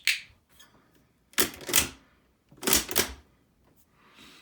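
Three pairs of sharp metallic clicks from a WW2 cricket clicker, the pairs roughly a second apart. The first click is fainter and the later pairs are louder and close, with no talking.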